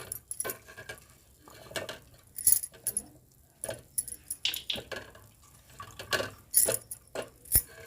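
Puffed rice (muri) being washed by hand in water gives scattered splashes, drips and small clinks of a vessel, coming in irregular bursts at close range with quiet gaps between.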